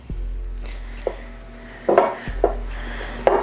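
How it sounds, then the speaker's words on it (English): Cream cheese and butter being rubbed into cookie dough in a bowl: quiet scraping and soft rubbing with occasional light clinks of utensil against the dish, close up. "you're just kind of rubbing in the cream cheese and the butter"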